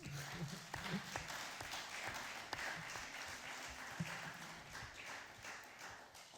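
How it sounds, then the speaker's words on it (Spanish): Audience applause at the close of a talk at a debate on neocolonialism and extractivism, a soft, dense patter of clapping heard from a distance for several seconds. "Un aplaudiment, no?"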